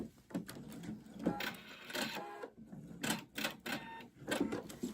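A sewing machine runs a serpentine stitch along the brim of a bucket hat in short, irregular bursts of rapid clatter with small pauses, close and fairly quiet, with no one speaking.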